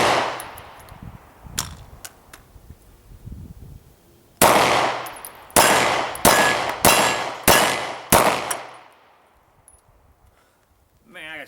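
A Hi-Point pistol fouled with motor oil fires its last rounds: about six sharp, loud shots spaced roughly a second apart, each with a ringing metallic decay, after a stretch of quieter background noise.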